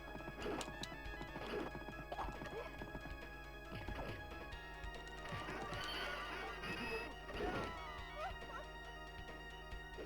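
Arcade game Knights of the Round from 1991 with galloping horse hooves clip-clopping, a neighing whinny and crashing combat hits, busy and layered game sound effects with no talk.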